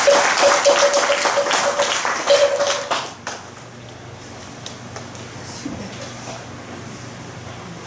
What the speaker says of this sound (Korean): 오늘 우리에게 좋은 법문을 내려주신 스님께 다시 한번 큰 박수를 부탁드립니다.